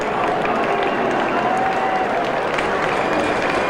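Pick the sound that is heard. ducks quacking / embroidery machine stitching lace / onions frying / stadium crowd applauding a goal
stadium crowd applauding a goal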